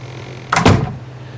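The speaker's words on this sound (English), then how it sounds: "go close the door." A door closing in the video game Ark on Xbox One, a single short thud-like swing and shut heard close over a low steady background hum.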